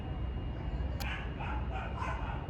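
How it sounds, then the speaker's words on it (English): An Australian Shepherd and doodle mix yips and barks several times at a race track, faint and some distance off, over a steady low background rumble. "There's a dog barking over there."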